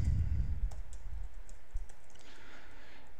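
Typing Java code on a computer keyboard, light scattered key clicks at close range against a low background hum, with a louder thump partway through.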